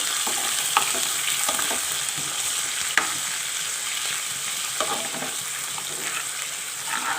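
Steady crackling sizzle of crushed garlic and ginger frying in hot oil for a masoor dal tempering, with occasional sharper pops and scraping stirs, close and continuous.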